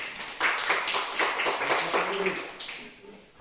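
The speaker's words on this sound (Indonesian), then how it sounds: "Ya, tepuk tangan untuk si Wulan." A classroom of students claps for a classmate in a short, fairly close burst of distinct claps that thins out toward the end, with a faint voice at the close.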